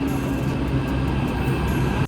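A Delhi metro train rumbles past in a steady, loud, continuous roar with rail hum and faint high squeal, no voices.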